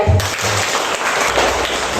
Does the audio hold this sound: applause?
yes